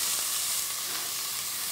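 Red onions sizzle steadily in a hot pan, a dense, even hiss of frying with faint pops and no voices.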